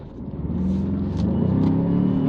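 A 2020 Ford Ranger FX4 engine revs on an off-road trail with traction control off, a steady, loud, close rumble that climbs in pitch and stays strong to the end with no talk.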